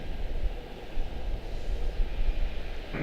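Airliner departing Charlotte-Douglas International Airport, a distant low roar of jet engines rumbling steadily with gusty wind-like fluctuation.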